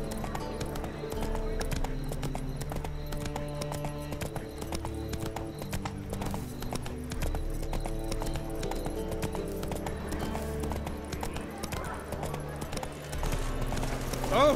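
Horse hooves clip-clop steadily in The Witcher 3, the rhythmic clopping set against continuous game music and ambience, with occasional whinny-like sounds and brief voice lines.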